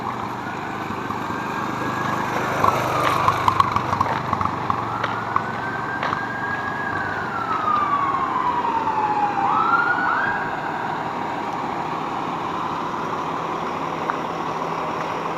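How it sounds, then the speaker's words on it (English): An EMS vehicle siren rises and falls in long sweeps, somewhat distant, over a low steady rumble of traffic. "Another siren."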